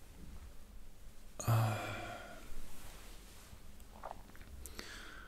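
A single breathy, drawn-out yawn or groan during a quiet guided meditation, soft and close, followed by faint breaths and small mouth sounds in near silence.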